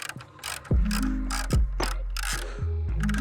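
Ratchet with an 8mm socket clicks in quick bursts while backing out grille bolts on a Ford Next-Gen Ranger Raptor, close and loud, with short pauses between runs of pawl clatter.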